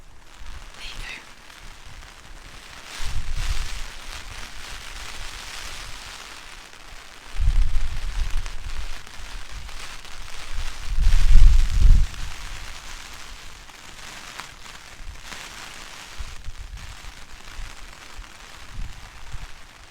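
Rain falls outdoors on a blustery day at a riverside farm, a steady hiss of drops broken by low rumbling wind gusts buffeting the microphone.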